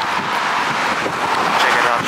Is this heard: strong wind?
yes